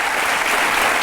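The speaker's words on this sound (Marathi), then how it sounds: "टाळ्या वाजवतात लोक." An audience at a televised courtroom-style talk show claps, a dense, even burst of many hands filling the whole brief moment.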